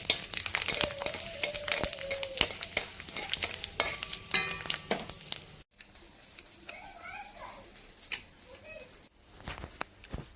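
Thin potato slices fry and sizzle in mustard oil in a wok, a steady crackling hiss with utensil stirring and clinks, while a person talks over part of it.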